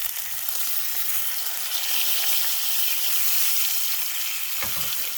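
Pieces of lamb and onions sizzle steadily in a hot pan, a constant loud bright frying hiss with a soft scrape or stir near the end.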